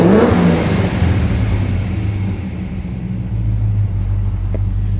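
Range Rover Classic with a 3.9 V8 and Hedman tubular headers revs loudly up close, its deep exhaust rumble rising and falling in sustained surges before settling into a steady throbbing idle.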